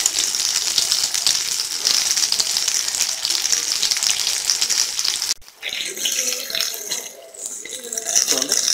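Veg cutlets deep-frying in hot oil, a loud, dense, continuous sizzle and crackle that drops briefly, then resumes with softer bubbling and popping.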